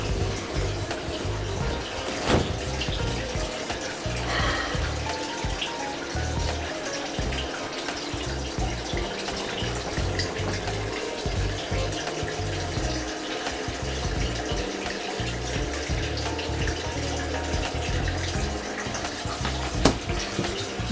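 Steady running water pours continuously for the whole stretch, like a tap left on into a sink, with a few faint clunks in the background.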